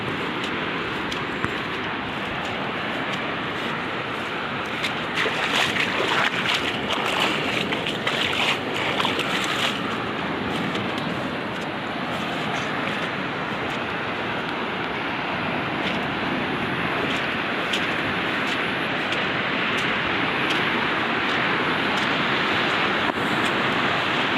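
Budhabalanga river in flood, its waters rushing in a loud, steady, unbroken roar that stays close and dense throughout, with no voices.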